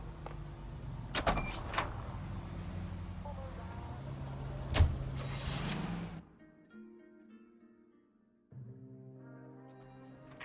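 Car driving in the L.A. Noire video game, a steady engine drone with a few sharp knocks and thumps, then quieter stretches where soft musical tones take over.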